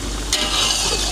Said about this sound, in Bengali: তো এখন আমি এখানে চাল দিয়ে দিব।